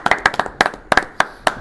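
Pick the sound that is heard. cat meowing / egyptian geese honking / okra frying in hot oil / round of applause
round of applause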